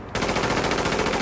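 A sustained burst of machine gun fire in Tom Clancy's The Division, rapid evenly spaced shots starting abruptly and continuing loud without any talking.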